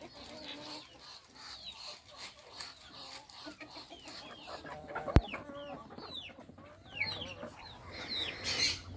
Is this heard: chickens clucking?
yes